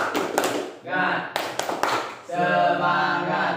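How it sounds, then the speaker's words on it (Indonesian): Students in a classroom clap in quick rhythmic bursts, sharp tapping volleys separated by short pauses, mixed with children's voices chanting and talking. "Tepuk kolom 2 dan 3."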